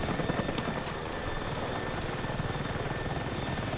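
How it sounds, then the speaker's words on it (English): Helicopter in the video game Battlefield, with a steady, fast rotor thump and engine drone holding constant and fairly close throughout, with no talk. "That's a helicopter."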